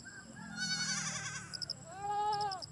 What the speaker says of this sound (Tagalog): Ay, dala akong kambing oh